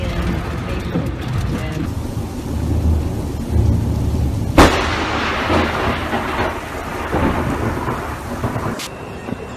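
Loud thunder crack from lightning striking an airplane, a sharp broadband burst midway followed by rumbling storm noise and rain, with excited voices heard throughout.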